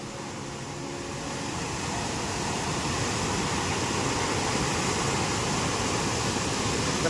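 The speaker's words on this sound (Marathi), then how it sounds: "तर बघा एवढा पाणी येईल आणि किती पाऊस लागलो कालच्या दिवसभरात" A village lake in the Konkan, flooded after a full day of heavy rain, with water rushing in a steady, dense roar that swells slightly and then holds constant.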